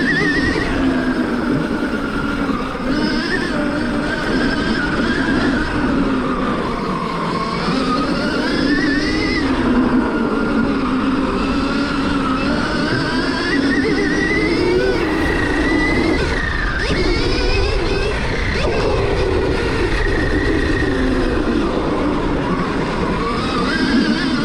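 A Stark Varg electric motocross bike riding toward a track, giving a continuous high-pitched electric motor whine that rises and falls with the throttle over steady wind and road noise.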